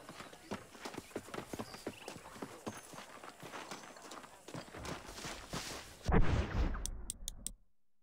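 Horse hooves clip-clop in a steady walking rhythm in the video game Red Dead Redemption, close and clear, before fading into a brief louder shuffle and cutoff.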